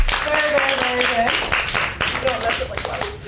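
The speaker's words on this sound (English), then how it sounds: "Let's give our Romeo and Juliet a huge round of applause." A class applauds the students who read Romeo and Juliet, with steady nearby clapping throughout. Voices talk and call out over it.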